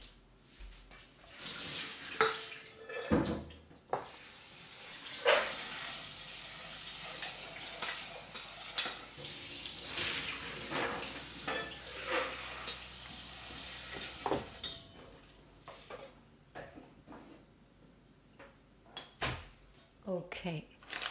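Soy beans rinsed under a running kitchen tap, a steady broadband wash of water with stirring and clattering that lasts most of the clip, then quieting near the end.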